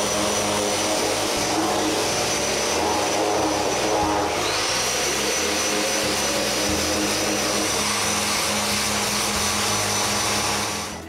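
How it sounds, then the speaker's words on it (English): A wooden Raspberry Pi laptop case is being sanded with a power sander, which gives a loud, continuous whirring drone that holds steady for the whole stretch and cuts off at the end. "I need to sand it."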